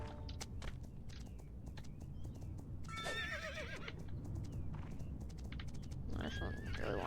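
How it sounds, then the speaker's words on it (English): In a horse-riding video game, a horse whinnies in two shrill bursts amid a steady run of hoof clops, over quiet background ambience, with faint bird-like chirps. "we're gonna capture one more horse"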